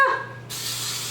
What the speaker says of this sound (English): Just give it a little spray.